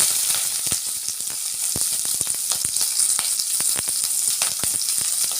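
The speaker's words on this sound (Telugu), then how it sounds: "ఉల్లిగడ్డ పచ్చిమిరపకాయ వేసుకొని కలుపుకోవాలి" Onions and green chillies fry in a pan for plain biryani, a steady close hiss of sizzling oil broken by frequent sharp clicks and scrapes as a spatula stirs them, with no talking.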